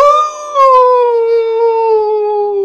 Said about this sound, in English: The werewolf howled again.